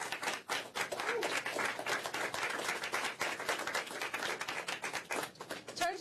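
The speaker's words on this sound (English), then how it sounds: "Give yourself a round of applause." A crowd at a mayoral primary night event applauds, dense continuous clapping from many hands sustained throughout, fairly close and lively with no voices standing out.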